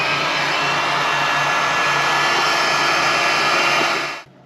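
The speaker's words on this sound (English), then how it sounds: "I'm using a hot air gun to warm the air" A hot air gun blows with a loud, steady, close whoosh and a whining motor tone during a sailboat refit, then cuts off abruptly near the end.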